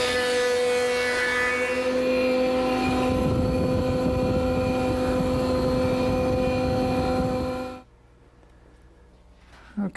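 A surface planer feeds 4/4 wood stock that has been resawn in half for quarter-inch panels, giving a loud, steady machine roar with a strong whine for about eight seconds, then cutting off abruptly into a quiet workshop.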